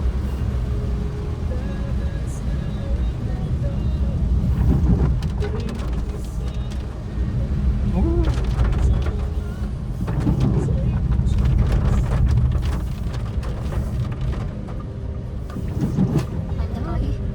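A Wuling Air EV or BYD Atto 1 electric car climbs a steep road at light throttle, a steady low road and motor rumble with wind swelling and easing throughout, under near continuous talk from inside the cabin.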